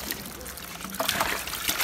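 Water trickles and dribbles into automatic water balloons, a soft, steady running flow with small splashy bursts near the end, heard close up without talk.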